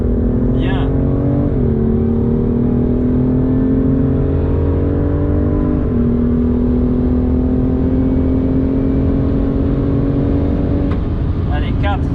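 A BMW M2 CS accelerates hard on a race track, its engine note climbing steadily through the gears with brief dips at shifts, loud and close throughout while a coach talks over it.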